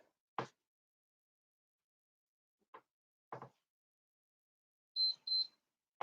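A few short electronic timer beeps sound near the end of a taekwondo mobility exercise, two quick high tones in a row, amid soft scattered knocks in an otherwise quiet room.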